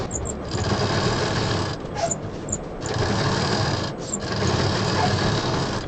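Sewing machine running in steady stretches as fabric pieces for a multi-compartment box organizer are stitched, with two brief pauses between runs; close and continuous.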